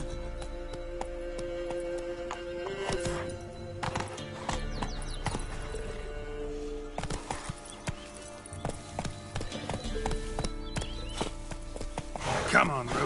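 Roach, a horse in The Witcher 3: Wild Hunt, plods with steady clip-clop hoofbeats and lets out whinnies amid game music and ambience, with a voice talking over parts of it.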